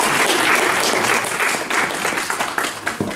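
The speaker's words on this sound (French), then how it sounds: "On les applaudit, merci beaucoup." A loud, dense burst of audience applause at a university governance training presentation session, many hands clapping close and continuous with no break.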